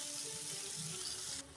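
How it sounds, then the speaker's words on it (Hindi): Running water pours steadily while minced meat (keema) is washed, a close continuous rush that drops slightly in level near the end. "कीमे को बहुत अच्छी तरह धोना है पानी से।"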